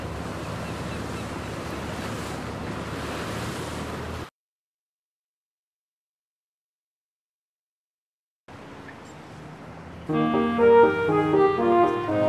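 In a Peppa Pig video game, a boat sets sail: steady wash of waves and wind-like engine rumble, a sudden gap of silence, then quieter water returns under a bright, louder musical jingle.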